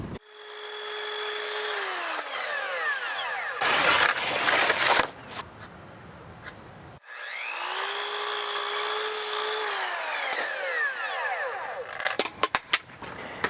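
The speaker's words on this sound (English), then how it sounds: "So I'm sanding this siding down" Power sander running on wood siding, a steady high whine with tonal harmonics that drops off around four seconds, then gritty scraping and clatter before the sander spins up again and later stops amid sharp knocks.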